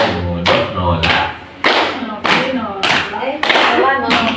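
A group plays the Indonesian clapping game "tepuk konsentrasi" in a classroom guidance session, sharp rhythmic claps and thumps struck in a regular beat, about one every half second, with voices chanting and speaking between the hits.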